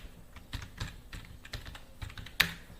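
Someone types on a computer keyboard, irregular soft key clicks close by with one sharper tap near the end, quiet and without speech.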